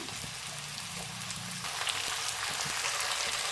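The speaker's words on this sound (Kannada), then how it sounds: "ಇದು ಸ್ವಲ್ಪ ನಮಗೆ ಆಯಿಲಲ್ಲಿ ಸ್ವಲ್ಪ ಫ್ರೈ ಆಗಬೇಕು" Sliced mushrooms and capsicum fry in oil with a dense, continuous sizzle like light rain, soft and even, growing slightly louder partway through, with no one talking.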